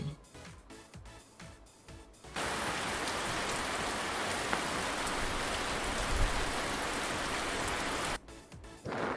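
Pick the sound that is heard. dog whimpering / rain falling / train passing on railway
rain falling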